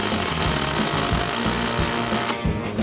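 Electric arc welding gives off a steady, loud crackling hiss with a low buzzing pulse underneath, close by, and the sound thins out shortly before the end.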